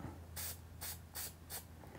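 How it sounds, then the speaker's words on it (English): Four short bursts of spray paint from an aerosol can onto a skateboard deck, each a sharp hiss about a quarter second long, evenly spaced against a quiet low hum. "Give it a little spray, because sometimes it gets a little bit of junk out of there."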